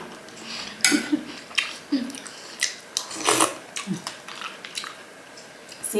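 Close, crunchy chewing and biting of Isan-style bee mushroom curry with torn fermented fish, irregular crisp bites and squishy mouth sounds at close range with no talking.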